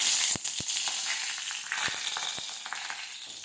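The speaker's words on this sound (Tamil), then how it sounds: "இப்போ வந்து கடுகை போட்டுடலாம் கடுகு பொரிஞ்சதும்" Mustard seeds sizzle and crackle in hot oil for a Tamil moong dal sambar, a steady bright fry broken by several sharp pops as the seeds burst, fairly loud and close with no talk.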